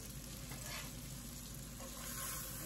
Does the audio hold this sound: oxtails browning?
yes